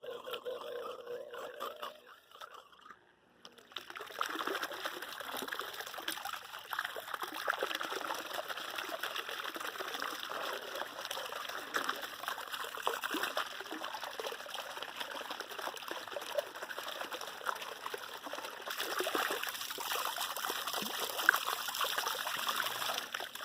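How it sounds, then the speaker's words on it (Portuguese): A homemade submersible water pump runs and sends out a steady stream of water that trickles and splashes continuously, close and fairly loud, after a brief quieter moment at the start. "E agora vamos colocar a nossa bomba funcionar."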